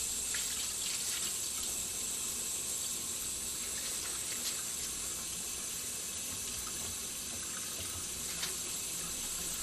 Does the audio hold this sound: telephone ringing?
no